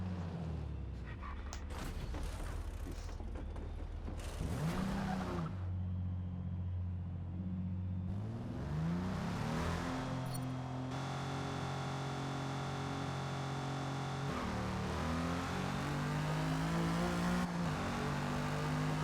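A race car accelerates in second gear, its engine droning and rising in pitch in long sweeps with gear-change breaks and a steady rumble underneath, loud and continuous throughout.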